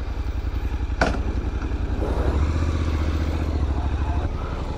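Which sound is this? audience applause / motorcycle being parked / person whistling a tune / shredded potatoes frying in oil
motorcycle being parked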